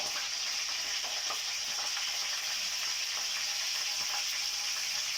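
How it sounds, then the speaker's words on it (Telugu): Cumin seeds sizzle in hot oil for a capsicum and peas curry, giving a steady, close, bright crackling hiss that holds evenly throughout with no talk. "జీలకర్ర వేస్తున్నాను"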